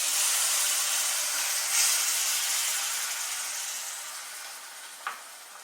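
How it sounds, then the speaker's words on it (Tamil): Milk poured into roasted semolina in a hot pan sizzles, a loud bright hiss that slowly fades over several seconds, with a brief clink near the end. "இப்போ அதில் பால் ஊற்றிடலாம்."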